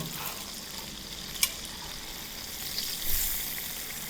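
Crispy chicken frying in a pan outdoors, a steady close sizzle with a sharp crackling pop partway through and a brief swell of spattering near the end, with no voices.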